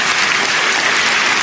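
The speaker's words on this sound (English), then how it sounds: "Listen to the crowd." A large audience at a Holland's Got Talent show bursts into dense, loud, sustained applause, a steady roar of clapping with no break.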